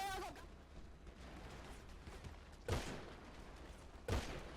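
Gunfire in the GTA V game: two sharp, loud shots about a second and a half apart, each with a short ringing tail, over a low steady background hum.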